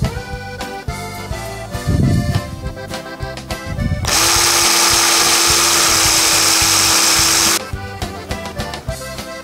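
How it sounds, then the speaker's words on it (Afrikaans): A power screwdriver drives a screw through a plate into a Hanger 9 model aircraft kit, a loud steady whine lasting a few seconds between lighter handling clatter. "hou hem aan die onderkant vast en dan skroef ons hem vast"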